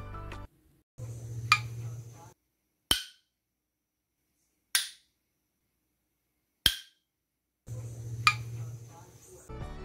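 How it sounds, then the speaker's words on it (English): Metal lids on home-canned applesauce jars popping as they seal after water-bath canning, three sharp single clicks spaced about two seconds apart, bracketed by bursts of other sound. "you will hear the metal lids popping sounds."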